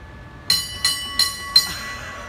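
A trolley on a city tram line sounds four sharp, evenly spaced horn blasts at close range, ringing out over a quiet background with no talk.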